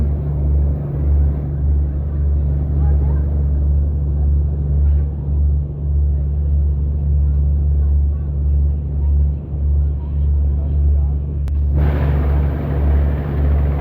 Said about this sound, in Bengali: এমবি গ্রিন লাইন তিন এখন ঢাকা থেকে ইলিশা যাচ্ছে